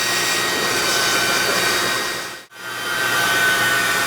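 Shop vac roars steadily as it sucks coolant out of a Ford truck radiator and engine block, a loud close whine that cuts out briefly and then starts up again.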